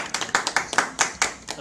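An audience claps at an academy event honoring civil-service exam passers, with brisk, even claps repeating steadily and no talk.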